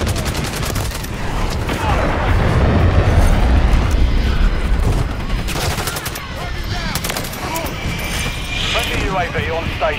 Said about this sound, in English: Friendly cruise missile approaching